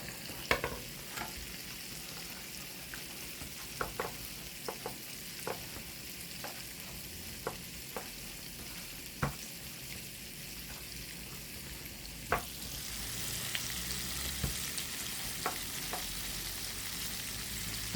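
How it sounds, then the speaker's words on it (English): Corn on the cob frying in hot oil on high heat, a steady soft sizzle with scattered pops and crackles throughout, the hiss swelling louder toward the end. "She's frying it on high"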